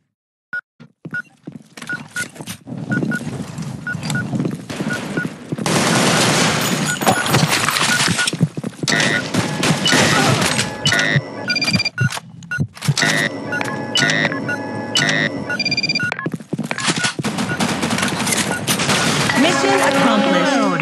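G36 rifle gunfire in a video game rattles in long rapid automatic bursts, loud and sustained, with brief pauses and scattered clicks and impacts between volleys.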